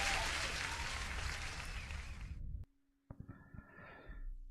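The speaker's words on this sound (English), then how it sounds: "Listen, you deserve an applause." Canned applause sound effect on a day-trading live stream, a loud burst of clapping and cheering that cuts off abruptly, followed by brief quieter noises and a soft low hum.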